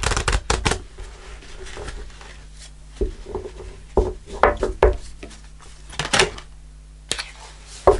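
Tarot cards shuffled by hand in a series of crisp, riffling bursts with short pauses between, ending as a single card is drawn from the deck, close and fairly loud with no talking.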